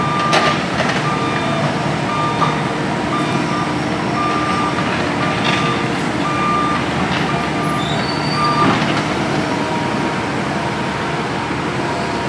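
Rock-hauling truck backing up at a busy construction-like site, its steady reversing beeps repeating through a continuous low engine rumble and roadway noise.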